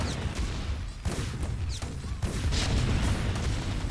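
A rapid cluster of explosive booms and crackling blasts from spider mines detonating on siege tanks in a StarCraft match, dense and continuous, with bursts layered over each other.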